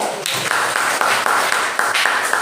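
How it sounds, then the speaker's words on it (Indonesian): Classroom applause in a physics lesson, a dense, steady burst of many hands clapping together, loud and close, continuing without pause. "berikan tepuk tangan"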